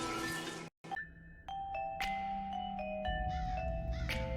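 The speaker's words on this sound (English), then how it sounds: "Pete rings the doorbell." A doorbell chimes several times in sequence, clear and close, its tones ringing out and overlapping against a faint background hum.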